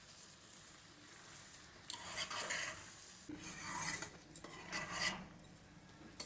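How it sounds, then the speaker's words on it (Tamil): Noodles tumble into a pan with tomato sauce and are stirred with a utensil. Scraping, clinking strokes come in uneven bursts, close and fairly soft, with no voices. "இப்போ நூடுல்ஸு இதில் சேர்த்துக்கிறேன்."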